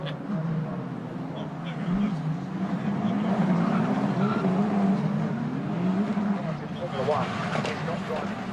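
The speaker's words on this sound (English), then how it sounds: "Cars coming out of the Taylor's hairpin, and it's a massive climb, isn't it, uphill." British F4 single-seater race cars accelerate out of the Taylor's hairpin at Knockhill and up a steep climb, their engines droning steadily throughout beneath continuous commentary.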